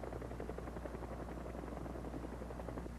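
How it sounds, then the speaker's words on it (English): A helicopter engine runs steadily nearby, producing a dense, continuous whine and rotor drone with rhythmic low-frequency pulsing and no pauses. "At all times, helicopter engines are being started or are running."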